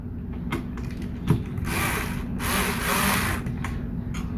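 A screwdriver turns the mounting screws of a PCCOOLER CPS RT620 CPU cooler on an AMD socket, giving soft intermittent ratcheting clicks and creaks with a few brief scraping bursts, close and fairly quiet.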